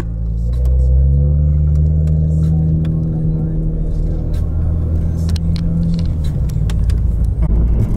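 A supercar at a car show held at a local bar pulls away with a loud, steady engine rumble that climbs in pitch as it revs and drives off, close by, with crowd chatter underneath.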